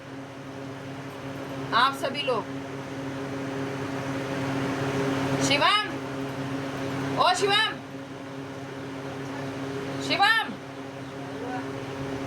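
An air cooler runs with a steady whirring drone that holds throughout, while a person calls out a name a couple of times over it.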